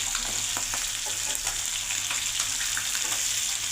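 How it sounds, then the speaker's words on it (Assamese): Fish sizzles in a frying pan with a steady, close, crackling hiss and no talking. "মই এতিয়া এই মাছ ভাজি আছোঁ"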